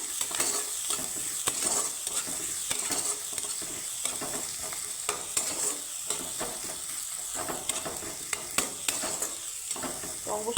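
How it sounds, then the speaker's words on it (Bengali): Sliced onion with oregano lightly frying in a pan for butter garlic masala pasta, a steady close sizzle broken by frequent scraping stirs of a spoon, with no one talking. "তো পেঁয়াজটাকে আমি আমি একটু হালকা ফ্রাই করে নেব"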